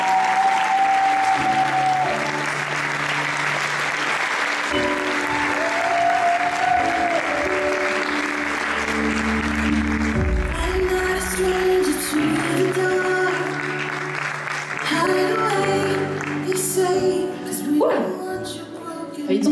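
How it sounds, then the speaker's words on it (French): A theatre audience applauds loudly and continuously in a packed hall at a Miss-pageant evening, with the clapping running steadily throughout. Music plays along with it, and a brief voice cuts in near the end. "Mesdames et messieurs, merci d'applaudir bien fort mademoiselle Clara Diry."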